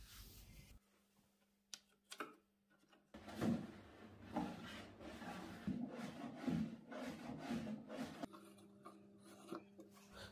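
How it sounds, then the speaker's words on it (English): A bar cart drawer slides on its runners while catching on the frame, giving quiet wooden rubbing and scraping with a few knocks, close up and with no talk. "The drawer on the cart is not running true and catching on the frame."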